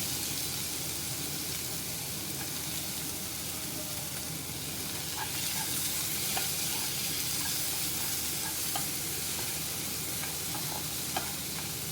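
Two big chopped tomatoes sauté in a pan for chutney, giving an even, steady sizzle with occasional soft stirring clicks, close up and without talking.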